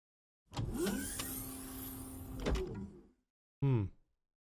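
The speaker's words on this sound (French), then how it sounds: "Ça, c'est une porte." A door sound effect plays: a long mechanical sliding or swinging whoosh with creaks lasting about two and a half seconds, then a short pause and a sharp, loud thud as it shuts.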